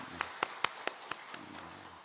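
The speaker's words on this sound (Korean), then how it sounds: "하나님께 영광의 박수 올려드리겠습니다." Church congregation clapping during a Korean Lent Sunday service, a short run of about six spaced hand claps that fade out, moderately near.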